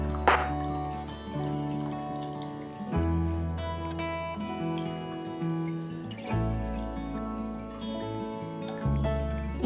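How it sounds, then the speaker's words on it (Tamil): Red agar pudding mixture is poured half-full into two cups, a close, faint liquid trickle and drip with a few clinks and pauses, heard alone without speech. "2 கப்லையுமே பாதி ஊற்றிக்கிறேன்"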